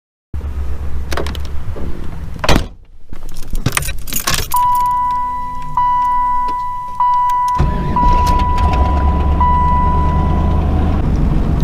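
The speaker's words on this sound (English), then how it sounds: "letting the car warm up" Car engine starting and then idling steadily as it warms up, heard from close by with keys jangling, a door or handling noise, and a steady electronic chime tone partway through.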